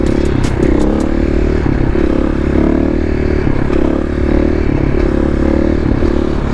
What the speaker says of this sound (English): First wheelie of the day? Why not? First wheelie of the makeover.